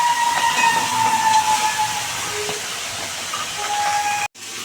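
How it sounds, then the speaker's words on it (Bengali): Chitol fish head frying hard in hot white oil, a loud continuous close hiss with faint whistling tones, cut by a brief sudden gap near the end. "এবারে মাছের মাথাটা ভেজে নেব ভালো করে"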